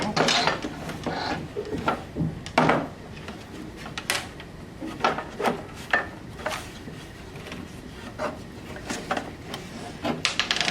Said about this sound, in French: Je sors un peu le tiroir.